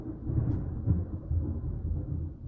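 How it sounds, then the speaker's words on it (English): Low, rolling thunder rumbles continuously from a storm, deep and moderately loud, with no voices over it. "Thunder scares the hell out of me."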